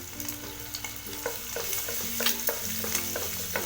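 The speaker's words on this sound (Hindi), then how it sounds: "अब इसमें हम ये लहसुन डाल देंगे" Garlic frying in a pan while cooking Chinese chicken and vegetable fried rice, a steady close sizzle and crackle with repeated stirring clatters throughout.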